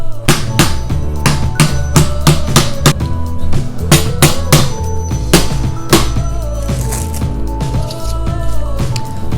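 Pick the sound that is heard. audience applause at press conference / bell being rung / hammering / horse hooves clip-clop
hammering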